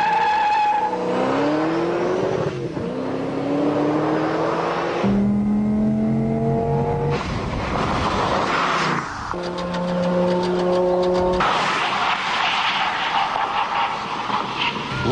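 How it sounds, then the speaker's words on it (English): A Steeda Mustang launches hard down a straightaway, its loud engine revving up through several gear changes with some tire squeal before it brakes, heard close and continuous. "The Steeda Mustang will be the next car to flex its muscles on the straightaway."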